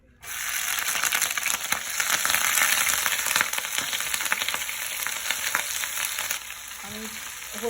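Mustard oil hisses and sizzles on a stove in a steady, loud frying rush that starts abruptly and holds, with occasional crackles and pops up close.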